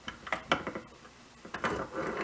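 Chrome-plated Baby Wilton 820 salesman-sample vise, felt between its jaws, swiveling by hand: a few close, quiet mechanical clicks and scrapes of metal on metal in short, uneven bursts with pauses between.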